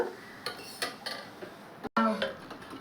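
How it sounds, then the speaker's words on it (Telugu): Metal lid clanks and settles onto a steel pot of tomato dal in a home kitchen, a few light clinks and scrapes followed by one sharper close knock, alone with no talk. "నేనైతే మూత పెడుతున్నా ఒక ఐదు నిమిషాలు"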